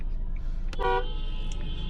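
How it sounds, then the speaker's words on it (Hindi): Car horns toot in busy street traffic, one clear short honk followed by a fainter one over a constant low road rumble. "थोड़ा सा ट्रैफिक रहता है यहाँ पे"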